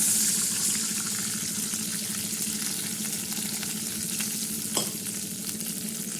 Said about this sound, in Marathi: आता याचं थोडंसं पाणी टाकणार आहे